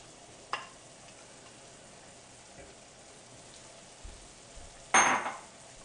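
Cream cheese and gorgonzola hit a hot pan at medium-high heat, giving one short, loud sizzling burst near the end after a mostly quiet stretch with a couple of faint clinks.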